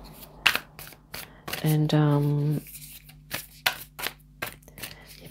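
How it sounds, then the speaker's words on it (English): Tarot cards are shuffled in quick riffles and soft flicks close to the microphone, with someone talking over them and a brief hum in the middle. "So I'm just going to quickly shuffle here"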